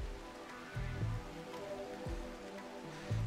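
Rain falls in Rimworld as a steady, soft patter of drops, fairly quiet and continuous, with a few low thumps and no talking.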